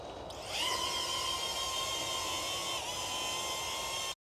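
A DJI Neo 2 drone spins up and takes off, its steady high-pitched propeller whine rising after a brief start and holding loud and close, with a small pitch dip near the end before cutting out.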